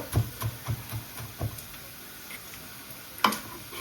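Chopped ginger sizzles in hot oil for a spice tempering in a curry, a soft continuous frying hiss with a series of quiet stirring taps and one sharper clink near the end.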